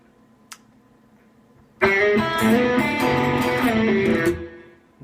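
Electric guitar plays a lick in low E position: a lone string pluck, a pause, then a burst of sustained, slightly driven notes ringing for a couple of seconds before fading out, with no talk.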